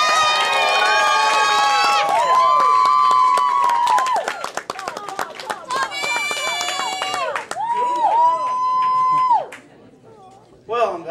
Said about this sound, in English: I'm glad I got a big clap there